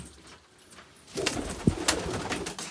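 Pigeons stir in a coop at night, with soft, low cooing and rustling close by and a few brief fluttery bursts.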